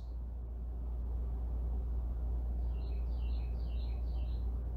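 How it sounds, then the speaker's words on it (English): Faint birdsong outdoors, a few thin high chirps trilling in a short cluster, heard distantly over a steady low hum of background noise. "See, I can hear the birds."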